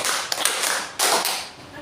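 People in a positive-discipline teacher training clap together in a counted exercise, a quick run of several sharp group claps with one louder burst near the middle, no talking.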